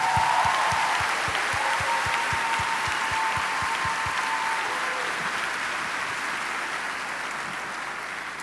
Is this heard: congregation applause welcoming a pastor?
yes